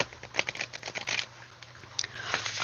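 Tarot cards from the Dark Mirror deck, an Italian-made deck, being shuffled by hand: a run of close, crisp riffling and flicking bursts with brief pauses, faint low hum underneath and no speech.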